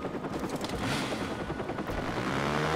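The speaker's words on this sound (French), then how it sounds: "Je suis cet hélico là?" Helicopter in the open-world video game Watch Dogs, a loud continuous rotor roar with chopping pulses filling the whole stretch, mixed with dense rattling noise, no voices.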